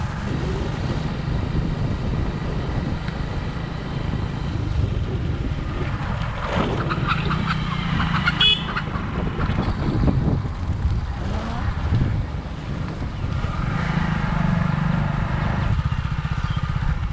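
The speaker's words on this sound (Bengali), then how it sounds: "এভাবেই চলছিল আমাদের মোটরসাইকেল।" Motorcycle riding along village roads in rural Birampur, its engine a steady low drone mixed with wind rush, rising and falling slightly as it travels, with a faint voice now and then.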